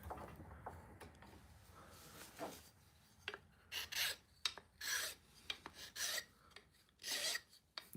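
Fine grit sandpaper is rubbed by hand across a wooden tobacco pipe, giving irregular raspy scrubbing strokes that grow more frequent and louder in quick bursts, close up and with no talk.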